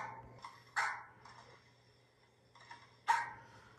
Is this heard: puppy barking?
yes